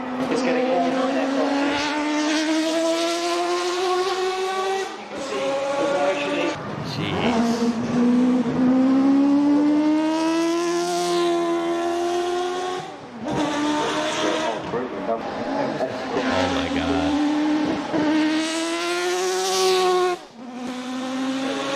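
A Mazda 787B rotary-engine race car revs hard and loud throughout, its high, buzzing engine note climbing and dropping in repeated sweeps, with a brief excited voice reacting over it.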